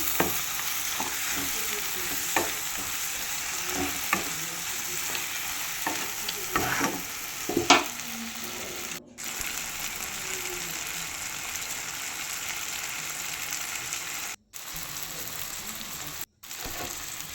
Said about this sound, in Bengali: চিংড়ি মাছগুলো দিয়েও ভালো করে নেড়ে নিচ্ছি।